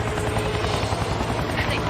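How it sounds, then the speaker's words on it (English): A low-flying helicopter in the game XIII drones steadily with a dense, continuous rotor thrum and whine, close and loud throughout the short stretch. "Spot a totally on the up-and-up helicopter that's needlessly close to the ground."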